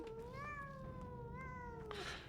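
A cat meows in Pathologic 2, one long drawn-out mew with a rising then falling pitch, clear and fairly close over a quiet game background.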